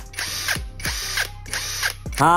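A Keelat cordless drill set to high torque whirs in three short, strained bursts with brief pauses between, followed by a higher whine at the end, close and loud.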